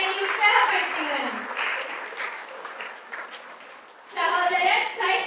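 Audience applause at a Tamil-language community event honouring a guest speaker, a dense wash of clapping that swells near the start, eases under a speaking voice in the middle, then rises loudly again.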